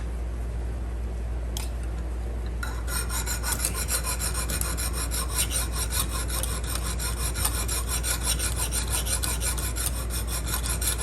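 Knife blade honed on a Lansky guided sharpening system with a finer grit stone, a steady rapid rasping scrape of repeated strokes, close and fairly loud, with no talk.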